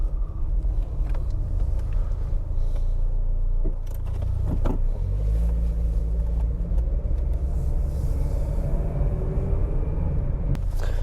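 A Citroen Saxo automatic driving along, with steady interior road rumble and engine drone throughout, a few light clicks and shifting tones as it moves, and no talking.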